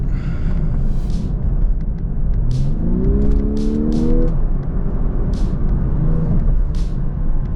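A Lexus LC500h engine humming steadily from inside the cabin while joining a motorway, with a synthetic-sounding tone rising in pitch as it accelerates, over road rumble.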